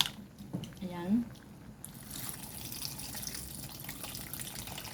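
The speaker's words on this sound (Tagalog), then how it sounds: "Ngayon, lagyan na natin ng kunting tubig para naman may kunting sabaw." Water is poured into a cooking pot of mussel soup (tinolang tahong) with chayote, making a steady splashing rush that starts partway through and continues at moderate loudness.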